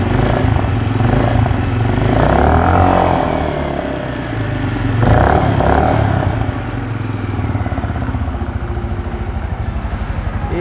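A Benelli Imperiale 400 motorcycle engine rumbles at idle and is revved in two swells, dropping back to a steady thumping idle, loud and close with no talk.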